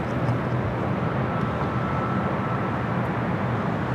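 A LATAM Dreamliner airliner passing near LAX on its way to runway 25 right, a steady, fairly close broadband jet roar that stays even from start to finish.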